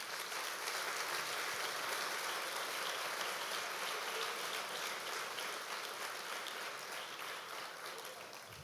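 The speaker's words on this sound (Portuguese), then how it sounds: "Aplauda o Senhor, querido, aplauda o Senhor." A church congregation applauds together in a steady, dense wash of clapping that fills the whole stretch and eases off slightly toward the end, with no other sound standing out.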